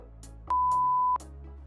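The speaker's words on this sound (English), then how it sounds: "Make sure you keep that rhythm right until you hear that beep." A single steady electronic beep sounds for about half a second, clear and close, standing out over a quiet background hum.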